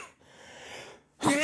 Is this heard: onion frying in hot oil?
no